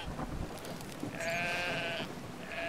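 Sheep bleating in the video game Brothers: A Tale of Two Sons, a drawn-out wavering bleat in the middle of the clip over steady game ambience.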